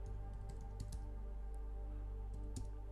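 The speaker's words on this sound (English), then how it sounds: "all we have to do, okay, is type in what?" A computer keyboard is typed on in quick, irregular bursts of clicks, moderately close, over a steady low hum in a quiet room.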